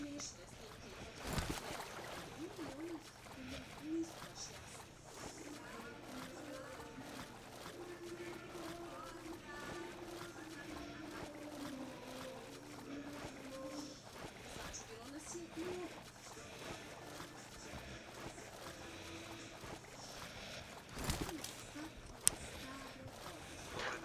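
A character swims through water in the PUBG Mobile video game, making soft, repeated sloshing and splashing strokes under near-constant conversation between players.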